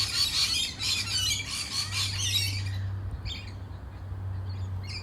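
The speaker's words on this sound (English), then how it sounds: "you might like to have a look at the parrots in this tree." Wild parrots squawking in a palm tree near Vancouver International Airport, a burst of shrill, rasping calls that fades to scattered squawks over a low steady hum of background noise.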